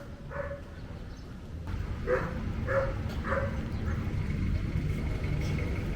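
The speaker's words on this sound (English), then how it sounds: "Dogs." Dogs bark in short bursts, four or five yaps at moderate distance over steady outdoor background noise.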